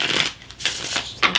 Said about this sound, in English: Just like to get a couple extra shuffles.